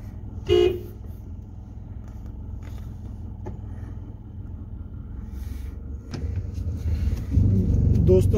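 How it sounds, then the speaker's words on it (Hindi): A light, short car horn tap sounds near the start from inside a moving car on a Saudi road, followed by steady engine and road rumble that swells toward the end. "दोस्तों भी आपके सामने मैंने हॉर्न दिया है हल्का सा,"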